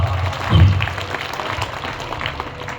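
Loud applause from a live audience at a mimicry artist's stage show, swelling briefly and then carrying on at a lower level with some crowd noise.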